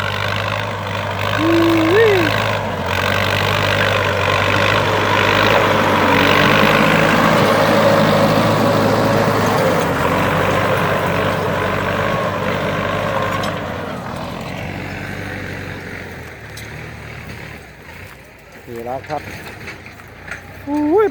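A Ford 6610 farm tractor's diesel engine drones loudly and steadily in a field, close by for most of the stretch before easing somewhat, with a few brief voices and whistles over it.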